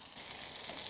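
Fat on Chinese roast pork crisps on a barbecue grill, giving a soft, steady hiss and crackle for about a second, quiet and close.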